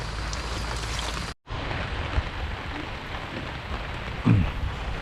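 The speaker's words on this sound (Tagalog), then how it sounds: "Ulan na." Steady rain pours down on a vegetable garden in a dense, even patter, broken by a brief instant of silence and a light knock near the end.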